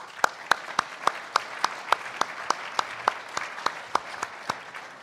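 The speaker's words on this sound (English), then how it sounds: "So I'd like to thank both of our speakers before we go to questions for one more round of applause." A small audience at an election day breakfast gives a sparse round of applause for two speakers, the distinct claps coming at a slow, steady rhythm, close and moderately loud.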